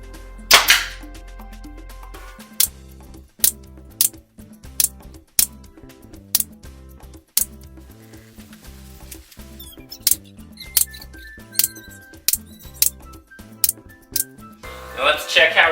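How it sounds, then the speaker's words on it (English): A brad nail gun fires into beadboard wainscoting in an existing room, sharp close snaps spaced a second or two apart, with quiet handling sounds between shots. "you can be checking for where the studs are to shoot your nail gun in"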